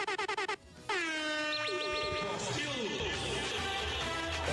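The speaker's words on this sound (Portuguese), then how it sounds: "3, 2, 1, solta a buzina, Nakamura!" Rhythmic short horn toots lead into a long, loud air horn blast that blares continuously over excited voices and background commotion.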